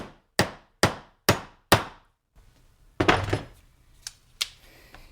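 A hammer taps a Mac RBRT rounded bolt extractor down onto a rounded, stripped Allen hex bolt: four sharp, evenly spaced metallic knocks close up, a short pause, then a few more uneven strikes.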